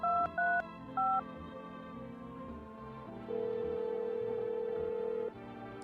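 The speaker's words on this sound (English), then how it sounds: "I can use the phone now." Touch-tone keys pressed on a house phone in the video game No, I'm Not A Human: a few quick dial beeps, then a sustained tone, heard close over a quiet game backdrop with low ambient hum.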